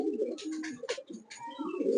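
Pigeons cooing in a racing pigeon loft, a steady layer of soft low coos and throaty murmurs from several birds nearby, with faint higher chirps above.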